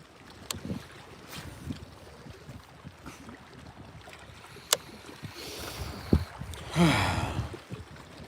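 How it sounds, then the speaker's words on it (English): Wind blows over a reservoir at a state park, a low rumbling buffet across the microphone that swells into a stronger gust near the end, with faint clicks and knocks from a boat nearby. "that wind's picking up again"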